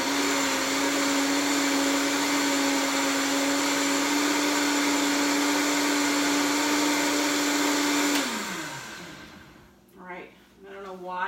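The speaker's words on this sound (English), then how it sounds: "I always make sure that my mixer or my blender is turned way down" A blender roars loudly at a steady high pitch for several seconds, then winds down and stops, followed by brief talking.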